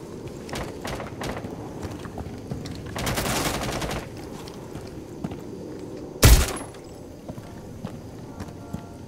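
Gunfire in Rainbow Six Siege at a house map, with a rapid automatic burst and a sharp, loud shot later over busy game background noise and footsteps, with no talk.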